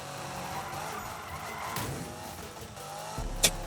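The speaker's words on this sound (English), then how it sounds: "this car is not meant to drift this tight spot, even with the stability off" Car drifting through a tight spot in Need for Speed (2015), a sustained engine roar mixed with tire squeal and skidding, ending in a sharp brief impact-like burst.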